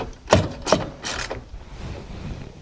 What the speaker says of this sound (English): it comes out with the socket